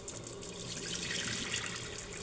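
Hot water runs steadily from a tap while a rice container, blackened with stains from stored rice and treated with vinegar, is scrubbed clean; a continuous close splashing rush with no talking.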